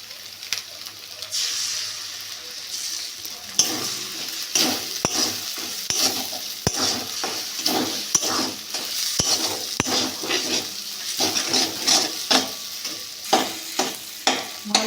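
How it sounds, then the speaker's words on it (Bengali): Egg and Maggi noodles stir-fried in a pan: a steady close sizzle broken by frequent sharp scrapes and clinks of a spatula turning the food, with no talking. "করে নেড়ে চেড়ে ভেজে নেবো"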